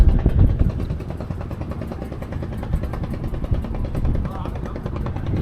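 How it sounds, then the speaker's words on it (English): A small boat motor drones steadily at close range with a buzzing, sputtering tone in Vietnam, and a voice speaks intermittently over it. "this little boat here with the little tiny little motor"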